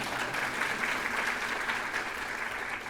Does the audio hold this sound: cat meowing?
no